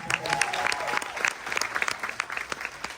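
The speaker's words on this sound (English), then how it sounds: "big round of applause for Coast Guard." A cruise ship audience on the Carnival Jubilee applauds the Coast Guard during a military appreciation event at sea, with distinct individual claps spread through a moderate, continuous round of clapping.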